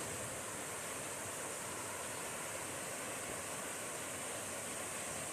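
Indian Creek Falls in the Great Smoky Mountains pours with a steady, broadband rush of falling water that stays even throughout, with no voices.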